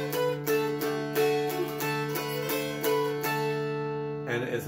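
Old Joe Clark played 3-string style on a mountain dulcimer, a bright plucked melody over steady droning strings. Notes are strummed in an even, brisk rhythm, close and clear with no talking.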